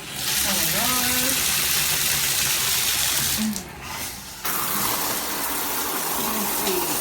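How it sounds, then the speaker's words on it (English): Water sprays steadily from a Bright Showers 8-inch rainfall shower head, a loud broadband hiss filling the whole stretch, dipping briefly midway before resuming, while people talk over it. "today we are going to see how the shower works"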